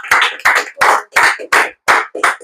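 Church congregation clapping in strong, regular rhythm, seven loud bursts of applause close together in quick succession with no voices.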